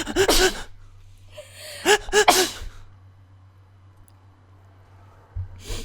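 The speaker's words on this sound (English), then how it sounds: "Oh no, I'm gonna sneeze." A person gasps and sneezes sharply, then sneezes again a moment later, close and loud, with quiet hum between and another burst at the end.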